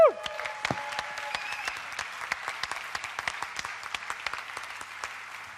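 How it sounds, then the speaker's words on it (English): Audience applause at a live bartending competition, a brisk burst of clapping from a crowd, dense and steady after a sharp start, with a brief whoop or whistle early on, no speech. "Big round of applause, ladies and gentlemen."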